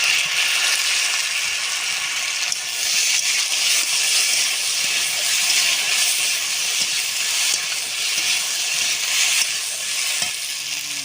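Mustard paste hits a hot pan and sizzles with a loud, continuous, hissing fry that stays strong and even from start to finish.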